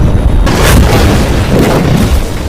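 A landmine detonates in a war film about Spanish soldiers in Afghanistan: a loud, heavy boom that rolls into a sustained, rumbling roar lasting a couple of seconds.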